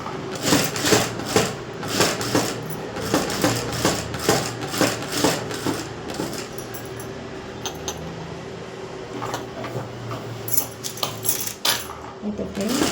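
A sewing machine stitching a blouse: a rapid mechanical clatter running in bursts with short pauses between runs, close and fairly loud.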